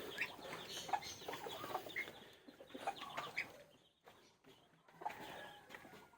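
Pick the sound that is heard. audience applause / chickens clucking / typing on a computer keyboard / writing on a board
chickens clucking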